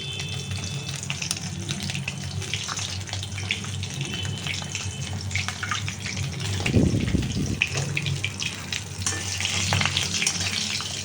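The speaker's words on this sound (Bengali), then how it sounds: "এবার এখন মাছ ভাজা হচ্ছে" Fish frying in a pan in a home kitchen gives a steady, loud sizzle that holds for about eleven seconds, swelling slightly midway.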